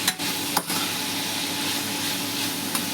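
Cabbage stir-fried in a hot pan for hakka noodles gives a steady close sizzle with a few sharp scraping knocks of the spatula near the start and end, and no talking.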